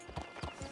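Horse hooves clip-clop in Red Dead Redemption 2, a quick run of three soft, faint, evenly spaced thuds heard alone.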